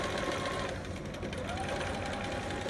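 A sewing machine runs a steady straight stitch along the inside edge of a romper's fabric, its hum continuous and fairly loud throughout with no speech over it.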